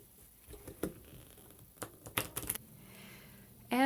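Someone in the background playing video games makes quiet, irregular clicking and key-tapping sounds in a few brief clusters, faint and somewhat distant in a quiet room.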